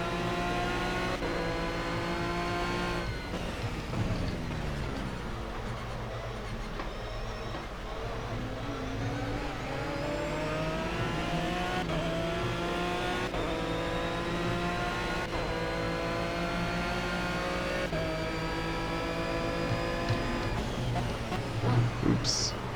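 Aston Martin V12 Vantage GT3 racing engine in a racing video game at Le Mans, Circuit Bugatti, holding a steady loud drone with rising and falling revs through the lap, with faint voice underneath.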